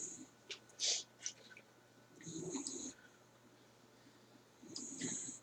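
A pet dog or cat snores while asleep, with several wheezy, rasping breaths rising and falling at close range, fairly quiet and with no talking.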